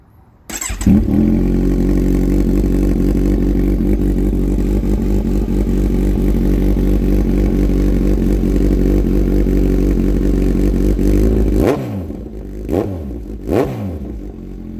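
A Kawasaki Z1000-R fitted with 4-2-1 exhaust headers fires up and idles with a loud, deep, steady rumble close by for about eleven seconds. Then come two sharp throttle blips that rise and fall quickly.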